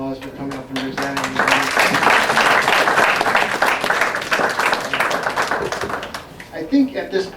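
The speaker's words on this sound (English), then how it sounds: "Applause for coming up and presenting." An event audience applauds a presenter, dense clapping rising after a brief spoken line and continuing for several seconds before thinning out into scattered claps.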